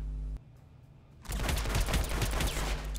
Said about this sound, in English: this was a weapon discharge